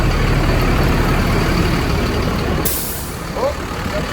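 A skoolie school bus engine runs at idle as a loud, close, steady rumble, then a sharp hiss of released air cuts in and the rumble eases slightly.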